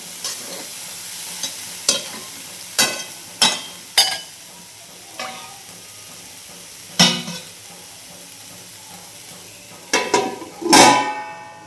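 Washed cluster beans cooking in a covered pan on a village kitchen stove, with a soft steady sizzle broken by about ten sharp scraping and clinking strikes, loudest near the end.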